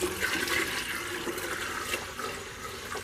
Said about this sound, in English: fill up my watering can halfway, and then I just add in